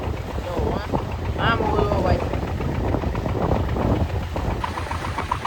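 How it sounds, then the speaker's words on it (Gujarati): A fishing boat's engine churns steadily as it runs over a windy sea, with wind buffeting the microphone, water noise and someone talking over the continuous rumble. "આ બોટ પણ ભાગે ભાઈ ઘણી ભાગે"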